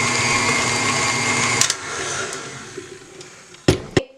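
An electric mixer beats eggs into a cinnamon cake batter with a loud, steady motor whine that cuts off after about a second and a half, followed by quiet and then a couple of sharp clunks.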